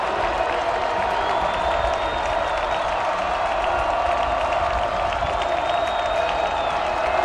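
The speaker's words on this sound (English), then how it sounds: "Crowd on its feet here." Stadium crowd at a college football game, Georgia State at Georgia Southern, a steady roar of cheering and applause that stays loud and constant throughout, distant and massed, with no clear voices standing out.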